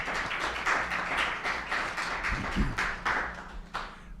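Audience applause at a NYC Mesh community network meetup, a dense spread of claps from a room full of people lasting the whole few seconds, fairly close and steady with no voices over it.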